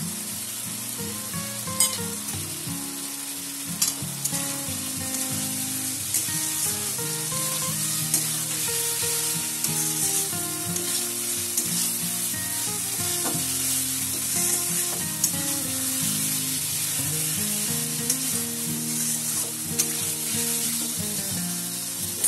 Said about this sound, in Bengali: এবার মশলাকে হাই ফ্লেমে দিয়ে ভালো করে কষিয়ে নেব